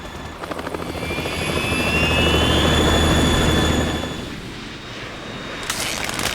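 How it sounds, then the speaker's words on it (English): Harrier jump jet in the Metal Gear Solid video game, a loud, close, sustained engine roar with a rising whine that swells and then fades, accompanied by metallic clanks. "We're in trouble. It's the Harrier."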